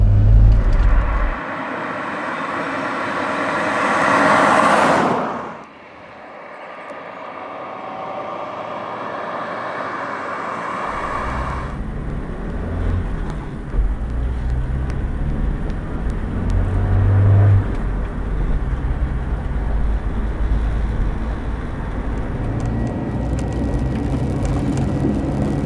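A brown 1979 Volvo 245 DL wagon with a four-speed manual and overdrive drives along the road, its engine revving up through a gear, dropping off at the shift, then settling into a steady cruising drone with road and wind noise.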